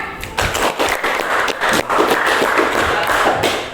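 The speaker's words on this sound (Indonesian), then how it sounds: "Tepuk tangan." A group of children claps hands together in a classroom in loose, uneven rhythm, loud and close, with the clapping running steadily for a few seconds.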